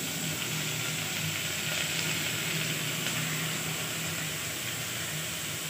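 Onion and slit green chilies with a few mint leaves sautéing in hot oil in a pan for coconut milk rice, a steady close sizzle and hiss that holds even throughout with no talk.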